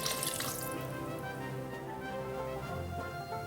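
Water poured into a pressure cooker of beef stew with dissolved beef stock, a steady continuous splashing pour lasting a few seconds, close by and fairly quiet.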